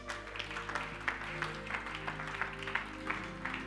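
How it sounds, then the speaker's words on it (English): A church congregation claps hands during an apostle's sermon, faint rhythmic claps at a steady pace of roughly three per second over a low electrical hum. "Clap your hands."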